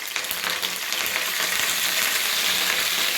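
Curry leaves crackle and sizzle in hot oil with mustard seeds and cumin while tempering for sabbakki uppittu, a close, continuous frying hiss with sharp pops and spatters, no talking.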